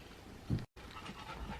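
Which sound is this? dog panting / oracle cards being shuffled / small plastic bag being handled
dog panting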